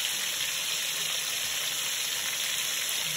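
Meat sizzles and browns in a hot pot, a steady, close hiss of frying that runs unbroken with no talking.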